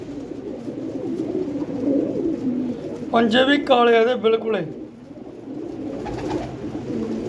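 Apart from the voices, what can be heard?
pigeons cooing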